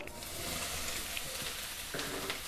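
Small bread pieces fry in hot ghee for bread halwa, giving a steady, close sizzle with faint crackles throughout the short stretch.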